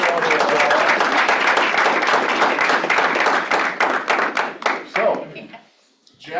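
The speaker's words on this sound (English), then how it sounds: "Let's give him a round of applause." An audience at a stakeholder meeting applauds the play of the week with loud, dense clapping and a few whoops. The clapping thins into scattered individual claps and then fades to near silence.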